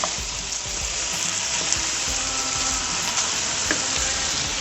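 Vegetables sautéing in a hot pan for a minced beef and vegetable stew, a loud close continuous sizzle with small stirring clatters scattered through.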